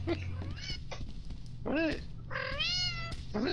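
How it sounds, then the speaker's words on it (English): A character in the video game The Ship gives short meow-like cries, a few separate rising-and-falling calls that stand out near and clear over a low background hum, with some talking around them. "He sounds like a cute cat."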